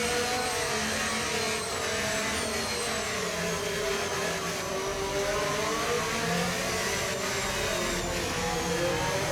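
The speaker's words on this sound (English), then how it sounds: "Coming out of the pits into P9, I've managed to overcut Russell" An F1 race car exiting the pits in the F1 25 video game, a continuous loud high-pitched engine whine with rising and falling revs, steady and close throughout.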